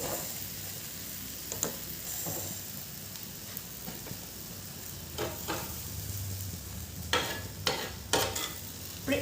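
Bread slices for a bread malai fruit cake shallow-frying in a pan with a continuous soft sizzle, broken by occasional scrapes and taps as the pieces are turned.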